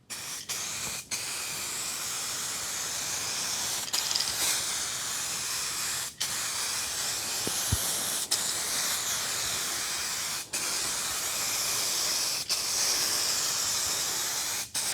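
Metallic paint sprayed from an aerosol can onto a damaged car panel, a loud continuous close hiss in long bursts broken by brief pauses between passes.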